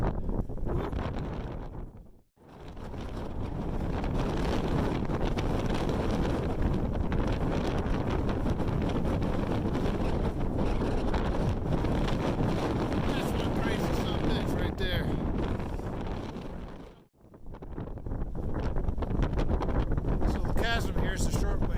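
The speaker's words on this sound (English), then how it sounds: "Windy as hell. It'll blow your phone right out of your hand." Strong gusting wind buffets the microphone on the summit of Mt. Whitney, a loud, continuous roar that drops away twice for a moment before surging back.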